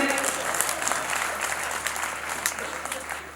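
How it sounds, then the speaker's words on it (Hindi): Audience applause at a Hindi poetry gathering (kavi sammelan), a dense, loud crowd of clapping hands sustained for the whole stretch and gradually easing toward the end. "तो एक बार जरा अनंत नारायण जी के लिए तालियां बजा दीजिए।"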